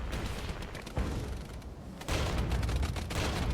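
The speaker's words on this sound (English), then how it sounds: "this guy can just stop hitting my guys with artillery, please" Artillery fire in the game Regiments, a rolling barrage of overlapping blasts and rumbling booms, loud and dense, easing briefly before a heavier burst of impacts returns.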